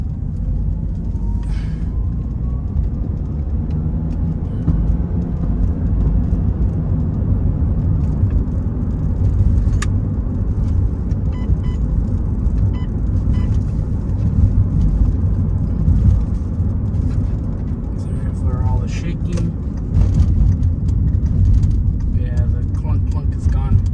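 A 2006 Ford Escape Hybrid drives around the block with a loud, steady road and engine rumble heard from inside the car, while a person talks over it throughout.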